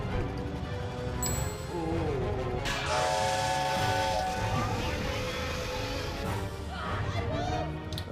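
A train's steam whistle and hissing steam play in the video game Conker: Live & Reloaded, with the whistle sounding among game music and effects while a person talks over it.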